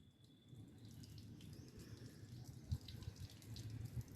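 Water runs from a household tap into a sink in a steady, faint splashing stream, with a few louder splatters near the end.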